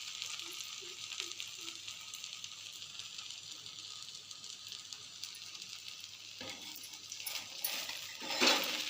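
Jackfruit dosa frying in a little oil on a hot pan, a steady close sizzle throughout with a few faint metallic clinks and scrapes near the end.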